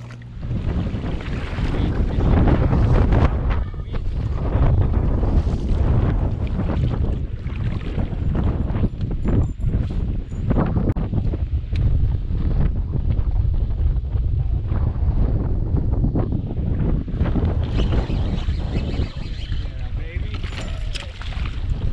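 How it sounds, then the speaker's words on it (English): Strong wind buffets the microphone loudly and continuously while kayak fishing for bass on a river, a steady roar with gusts and a voice talking over it at times. "It is windy as heck out here"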